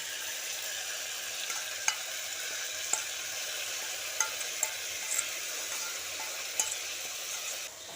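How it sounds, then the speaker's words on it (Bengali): Cauliflower pieces with a yogurt mixture being sautéed in a pan, a continuous bright sizzle with occasional light clinks and taps of the stirring spoon spaced a second or so apart, close and steady with no talking. "আবারও আমি দু তিন মিনিট মতো এইভাবে কষিয়ে নেব"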